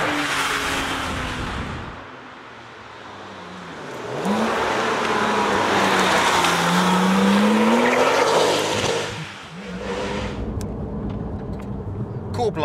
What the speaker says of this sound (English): This is a very, very fast car,